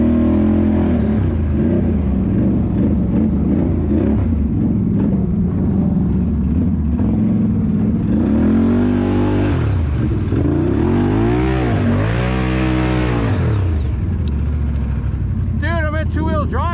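A Can-Am Renegade ATV engine revs hard in deep mud, loud and close, with the revs climbing and dropping in repeated surges near the end.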